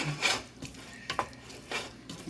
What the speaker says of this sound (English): Usually stir it all up.